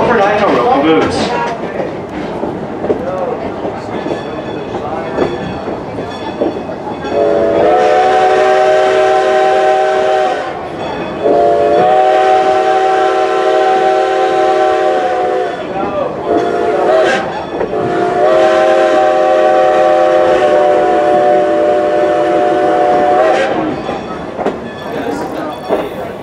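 Strasburg Railroad steam locomotive #90 hauls an excursion train, its whistle blowing three long, loud tones over a steady rolling rumble heard from aboard, with voices in the background.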